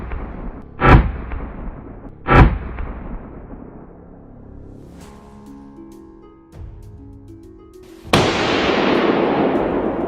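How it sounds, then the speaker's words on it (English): Rifle shots during a wild boar hunt: two sharp, loud cracks about a second and a half apart, each with a short fading tail, then a quieter tonal stretch and a sudden sustained roar near the end. "The moment the boar crossed my line of sight, a single, sharp shot rang out."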